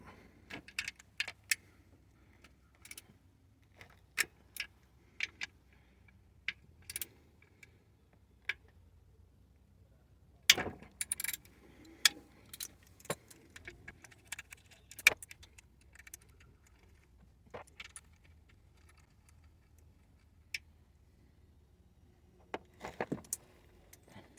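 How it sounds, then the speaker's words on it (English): Small metallic clicks and ticks of a wrench or socket removing 10 mm nuts on a Toyota oil pickup, sparse irregular taps spread through a quiet workshop. "I'm gonna remove the 10 mil nuts."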